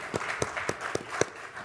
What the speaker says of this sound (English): Why don't we give them a round of applause?